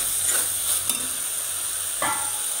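Green beans sizzle steadily in a hot pan for a potato and bean sabzi. A spoon scrapes and stirs them twice, with a brief clatter near the middle and another near the end.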